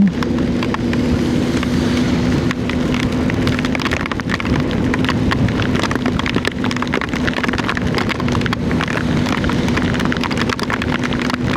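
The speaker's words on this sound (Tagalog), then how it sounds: "Lakas ng ulan." Heavy rain pours down steadily and loudly, a dense, continuous hiss with drops pattering on a nearby surface and a faint steady hum underneath.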